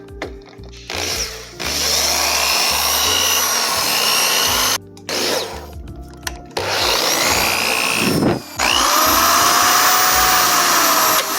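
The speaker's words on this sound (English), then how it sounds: "drill out the remainder of your holes with a 1/4 inch drill bit" A power drill with a 1/4 inch bit bores holes while fitting a motherboard to a Ghostbusters proton pack, running in loud sustained bursts separated by short pauses, with whining pitch shifts as the bit cuts through.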